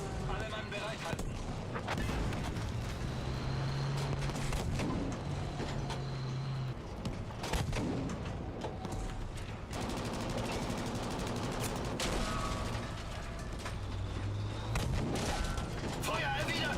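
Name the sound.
gunfire in video game Battlefield V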